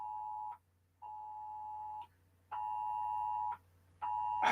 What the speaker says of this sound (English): My fucking phone is going off because I have some fucking child abduction notice.